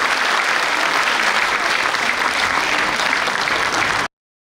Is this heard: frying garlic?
no